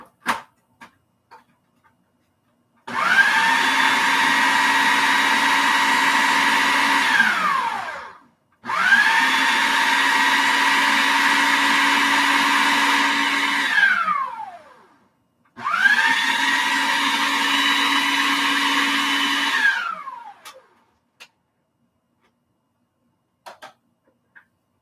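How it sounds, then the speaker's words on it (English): Steel-bladed blender milling oats into flour, running in three loud bursts of about five seconds each, with short pauses between them and a slight drop in pitch as each burst winds down. "So I got it in my blender with a steel blade in it"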